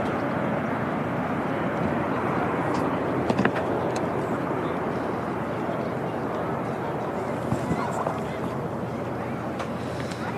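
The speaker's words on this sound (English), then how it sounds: "TUI Dreamliner departing." A TUI Boeing Dreamliner departs Manchester Airport with a sustained, rumbling jet roar at moderate distance, and people talk over the engine noise.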